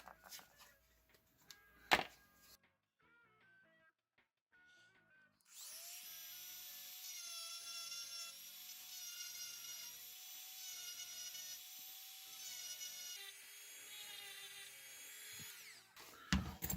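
A rotary tool fitted with a sharp-edged barrel bit carves into a plastic action figure, a steady high whine running for about ten seconds after a quieter start of small handling taps, then stopping abruptly near the end.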